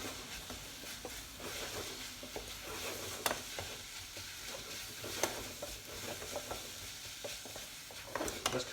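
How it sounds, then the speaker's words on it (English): Onions sizzle steadily in a pot for curried onion and potato soup, a continuous crackling fry broken by occasional sharp scrapes and clicks as they are stirred, with no voices. "as the onions start cooking"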